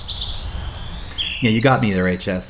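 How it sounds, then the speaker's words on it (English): Birds chirp in an outdoor ambience, with high, drawn-out whistled calls up front, then a person talks over the continuing calls and background noise. "there's a lot of birds chirping right now."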